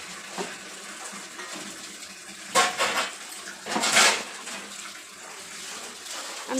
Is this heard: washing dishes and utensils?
yes